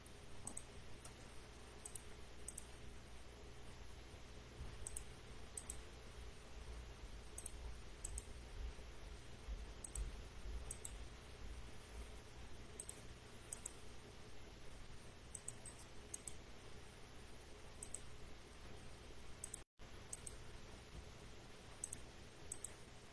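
Mouse clicks in the Farmtown browser game, a steady scatter of quiet, sharp ticks recurring every second or two over a faint, constant background hum, with no voices.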